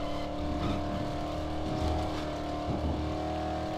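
A car engine hums and revs while driving in the zombie video game Dead Island, a steady mid-level motor drone with occasional surges, with no talking over it.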